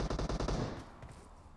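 Rapid automatic gunfire in the mobile battle royale game PUBG Mobile, Metro Royale mode, a loud burst of evenly spaced shots for over half a second that then cuts off, leaving a faint decaying tail.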